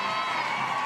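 Capacity crowd at Dumke stadium cheering a leadoff triple during a professional AUSL softball game, a steady dense roar sustained throughout.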